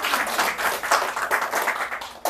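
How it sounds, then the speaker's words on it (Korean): A church congregation in Sangwolgok-dong, Seoul, breaks into a dense, continuous round of applause that holds steady for a couple of seconds before stopping. "박수 한번 주세요."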